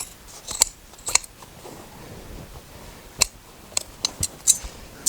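Scissors snipping through upholstery fabric, close and fairly quiet, with scattered sharp clicks of the blades coming singly and in quick pairs over a soft background.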